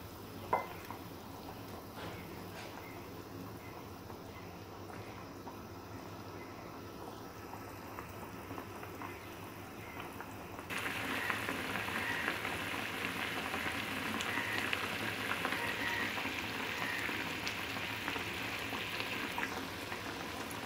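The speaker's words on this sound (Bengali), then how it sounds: "এখন ভাজা মাছগুলো ছেড়ে দিলাম" Fried fish pieces slid into a bubbling mustard-paste spice masala in a pan, giving a steady close simmer and gentle sizzle that grows louder and busier partway through, with no voices.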